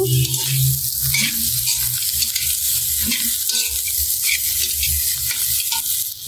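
Mixed vegetables, without capsicum yet, fry loudly in a pan for egg and vegetable chowmein, giving a dense, hissing sizzle close up, with scraping stir strokes and occasional clatters throughout.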